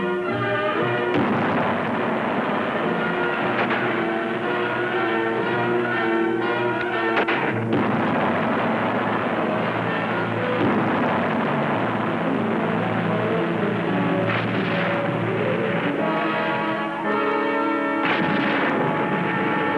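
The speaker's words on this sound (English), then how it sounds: "Five batteries of artillery, mortars, anti-tank weapons, and machine guns are brought to bear upon their positions." Dense, continuous battle din from a World War II Pacific engagement, with artillery, mortar and machine-gun fire rolling together into a loud, steady roar of booms and rattling shots throughout.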